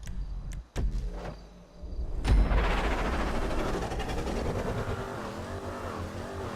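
A Vapid Hustler car in Grand Theft Auto 5 drives along, with a few sharp clicks and a brief thump before its engine rises into a steady, continuous drone that holds close and loud to the end.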